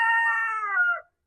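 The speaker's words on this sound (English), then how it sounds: "My chickens are very chatty today. They're very loud." A backyard laying hen gives a single loud, drawn-out call of about one second, harmonic and slightly descending at the end, close by and alone.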